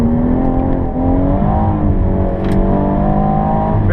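A 2017 BMW M240i accelerates hard down a race-track straight at Killarney International Raceway, its engine a loud, steady, rising drone heard from inside the car, with a continuous roar and road noise throughout.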